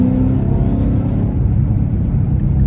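A 2011 Ford Shelby GT500 driving under light throttle, its engine a loud, steady low rumble with a whir that holds level and then drops slightly as it settles.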